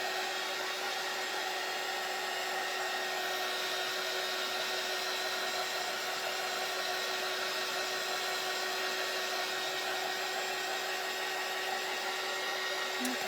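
A hair dryer blows steadily on a spring door hanger craft piece, a loud, even close whoosh that runs unbroken throughout with no talk.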